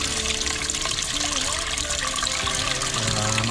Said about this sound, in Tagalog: Lalagyan natin siya ng tubig.